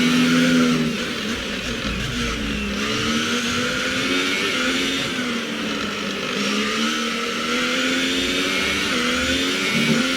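Formula 1 race car engine on a hot lap in the video game F1 2018 at Brazil, a steady high-pitched whine held nearly constant with small pitch dips through corners, continuous and close, no talk.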